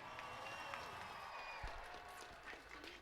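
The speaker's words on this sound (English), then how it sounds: "everybody give her a big round of applause." A crowd applauds for Jessica Sanchez, a faint, steady patter of clapping held at a low, even level throughout, with light voices mixed in.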